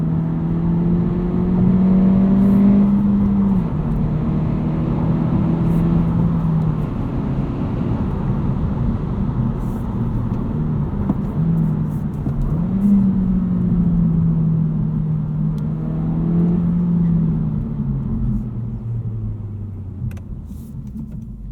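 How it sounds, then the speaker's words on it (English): A 2022 Honda Civic Si engine runs in normal mode with its artificial sound off while driving at night, giving a steady, fairly loud low drone that rises and falls gently with throttle across the whole stretch. "You guys can listen to the engine without the artificial sound."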